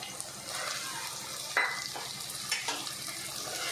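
Paneer cubes fry in hot oil in a pan alongside dried red chillies, a soft steady sizzle with a few sharper crackles and stirring clinks, heard close up and alone.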